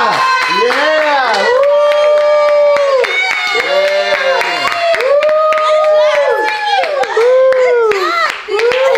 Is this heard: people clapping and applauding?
yes